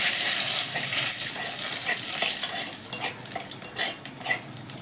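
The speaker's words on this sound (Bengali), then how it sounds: "এবার বন্ধুরা এই তেলে আমি কিছু ফোড়ন দেব।" Bay leaves and whole cumin tempering in hot oil in a pan, a steady sizzle with stirring and scraping of the utensil, close, the frying easing into intermittent clinks toward the end.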